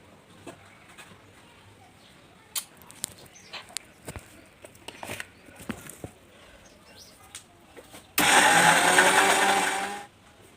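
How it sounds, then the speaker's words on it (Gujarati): A mixer grinder grinding soaked dal into vada batter roars on loudly and steadily for about two seconds near the end, after scattered clicks and light handling knocks. "આપણે મિક્સર ચાલુ કરી લીધું છે."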